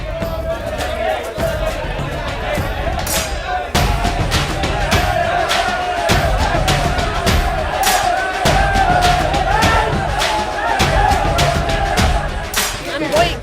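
Studio audience at a televised Kannada political debate show clapping and shouting, a loud, sustained crowd roar broken by sharp bursts of applause, with voices and chatter mixed throughout.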